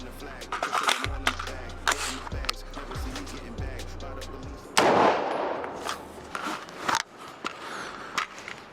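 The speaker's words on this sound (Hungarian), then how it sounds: "Nézzük meg, milyen a hang, hangtompító nélkül, Supersonic 300 Blackout" A BTS-15 carbine fires supersonic .300 Blackout with no suppressor, sharp outdoor shots rising out of a noisy range background, with one louder, longer blast near the middle.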